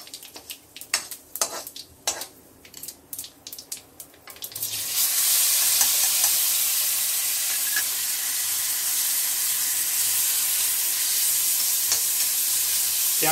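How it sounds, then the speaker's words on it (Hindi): Chopped onions hit hot oil in a pan for tomato soup, setting off a steady broadband sizzle that runs without a break after some brief clatter and stirring at the start. No one speaks. "प्याज को अच्छी तरह से भून लेंगे।"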